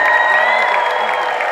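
A large crowd in Ljubljana at a kids' breakdancing championship final keeps up loud, steady applause and cheering without a break.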